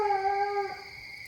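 A hunting hound bays once in the Iowa woods at night, a long, clear, drawn-out howl with rich harmonics that drops off abruptly, followed by quiet.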